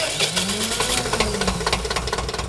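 A restored 1959 Porsche Master tractor engine runs at a steady, rhythmic chug with a knocking pulse, loud and near, with no talk over it.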